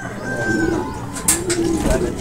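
Racing pigeons coo in a loft, several soft, throaty rolling calls close by and fairly loud, with a faint murmur of people in the background.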